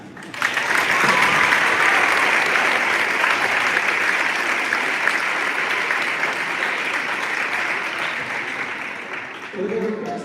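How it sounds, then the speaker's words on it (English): Spectators at a high-school baseball doubleheader with veterans appreciation, Highland Hornets against Tallmadge Blue Devils, break into loud, sustained applause that slowly thins out, and a voice starts up faintly just before the end. "please join us with a round of applause to thank the Jacksons at this time"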